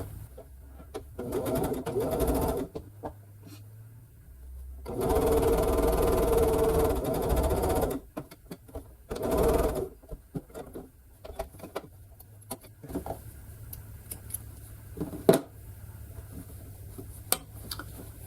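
Sewing machine stitching quilt heart block pieces together, several bursts of steady mechanical whirring and rattling, close, with quiet handling sounds between runs.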